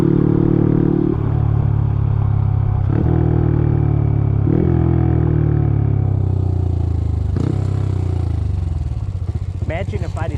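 A small Honda CT motorcycle engine drones loudly and close, shifting pitch a few times between gears, with tires crunching and clattering over a loose gravel road.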